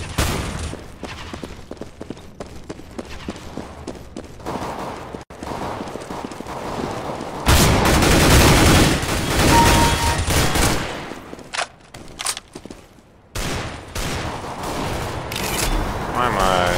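Counter-Strike: Global Offensive gunfire in a team deathmatch, loud bursts of automatic shots packed close together with near-constant firing, sharp dropouts and a dense stretch of heavy fire in the middle.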